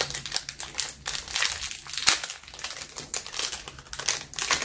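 Plastic and foil packaging crinkles and crackles in dense, irregular bursts as Pokemon Celebrations dice are unwrapped from an Elite Trainer Box, close and continuous with no talking.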